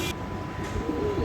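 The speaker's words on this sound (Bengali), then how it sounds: "এটা আমার কবুতরের বাচ্চা। এখন ভালোই ডাকে, বড় হয়েছে আলহামদুলিল্লাহ, ভালো ডাকে" A young racing pigeon cooing nearby, a soft low steady call running through the short moment with a faint background hum.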